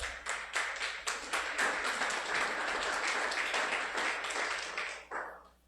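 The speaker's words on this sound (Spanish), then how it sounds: "Denle un aplauso al Señor, hermano." A church congregation breaks into sustained applause, steady clapping at moderate distance that holds for about five seconds before tapering off.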